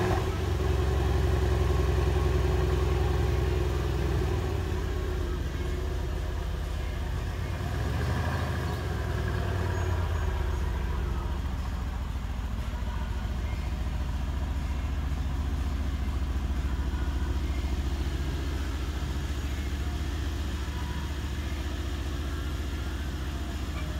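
The engine of a 2017 Mercedes-AMG C63 S sedan runs close by, with a deep, steady idle rumble that briefly swells and settles again before holding a constant drone for the rest of the stretch.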